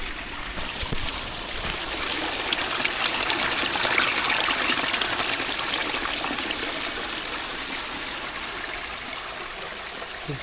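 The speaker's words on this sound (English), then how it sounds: "You get all the water running down here, I can actually hear it." A small stream of water runs off the fields on a steep, shady lane, trickling and gushing in a continuous close wash. No voices are heard.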